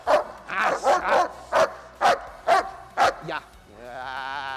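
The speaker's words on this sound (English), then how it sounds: "Now we're getting a little more activity in the barking." A dog barks repeatedly at close range, a quick series of about eight sharp barks ending in a drawn-out whine.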